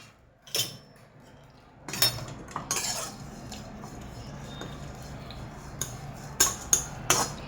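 Dried jawla shrimp rattle and scrape in a dry pan without oil, with scattered sharp clinks of a metal spoon stirring against the pan amid quiet stretches, close and fairly soft.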